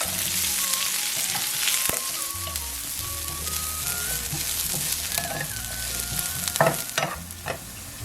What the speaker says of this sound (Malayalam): സവാള അരിഞ്ഞു വെച്ചതും കൂടെ ഇട്ടിട്ട് ഒന്ന് വഴറ്റിയെടുക്കുക